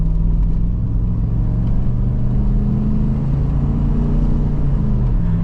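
The Holden VN V8 wagon drones steadily from inside the cabin as it drives, a constant low rumble with a slight rise and fall in revs and no talking.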